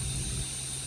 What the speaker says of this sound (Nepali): अर्को अटो चाहिँ पर आउँदैछ